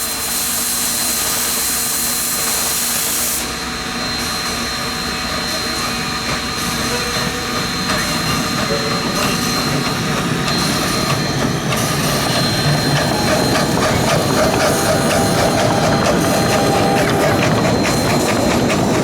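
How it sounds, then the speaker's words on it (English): A miniature gauge steam locomotive at a steam museum throttles up and pulls away, a loud rushing chuff and rumble building over the whole stretch with faint rail clatter, no talk. "Heading back over to the miniature gauge station, number 1 throttled up and left."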